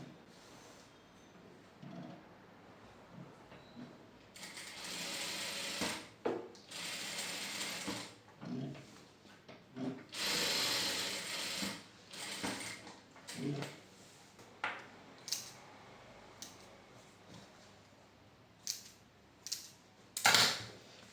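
A sewing machine stitches a shirt collar in short mechanical bursts of fast clatter, separated by quiet pauses and a few isolated clicks.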